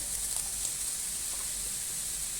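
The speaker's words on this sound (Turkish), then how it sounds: "Yarım çay bardağı sıvı yağ koydum. Tavama ısındı. Akabininde soğanlarını ekledim." Chopped onions frying in hot oil in a pan, with a steady, even sizzle running throughout at moderate level, no voices.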